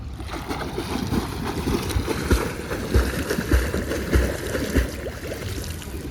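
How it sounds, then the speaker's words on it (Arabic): Fast flutter kicks churn and bubble in swimming pool water, a close, dense splashing and gurgling that carries on steadily with rhythmic surges and no talking. "اخبي راسي جوه الميه وهفضي بابلز واعمل ضربات رجلين سريعه بالمنظر ده كده"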